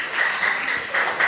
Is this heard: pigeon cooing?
no